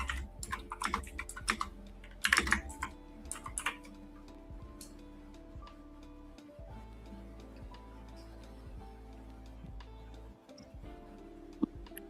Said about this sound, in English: Oh, I can hear my keyboard.